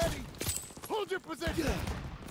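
Gunfire in Call of Duty WW2 crackles in short bursts beneath loud, urgent shouting voices, the shots mostly masked by the talk.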